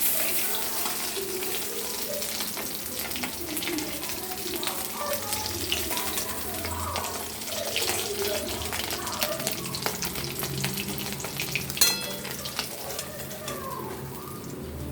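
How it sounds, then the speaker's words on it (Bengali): Pieces of bata fish frying in oil in a pan give a steady, close sizzle that runs throughout, with occasional light clinks of a utensil. "সব মাছগুলো এইভাবে ভেজে নেব।"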